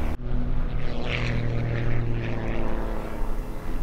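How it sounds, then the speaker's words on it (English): A propeller airplane flies past at the Oregon International Air Show 2021, its loud, steady engine drone filling the air without any talk. "George Klein, Air Boss, we've got an airplane in here and we've got an aileron that just came off of that airplane"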